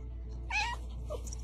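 A house cat gives a single short meow, close and clear, over a low steady background hum.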